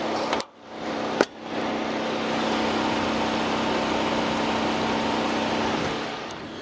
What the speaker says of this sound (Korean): 아직까지 굉장히 짱짱한 엔진 소음 만나보실 수가 있는 차량이고